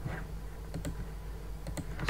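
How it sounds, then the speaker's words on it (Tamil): Fingers tap out a few keystrokes on a computer keyboard, with scattered quiet clicks spread over about two seconds against a low room hum and no speech. "ஸோ இதில் யூசர்னு டைப் பண்ணிவிட்டு"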